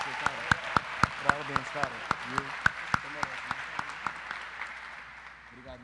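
A church gathering claps for a man, with sharp, evenly spaced claps that gradually soften and fade, while a voice speaks over them.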